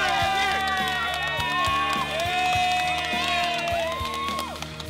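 Volunteers cheer and whoop in a loud, continuous group burst after filling another box of meals at a hunger-relief packing event, high excited voices layered over a steady rumble of crowd noise.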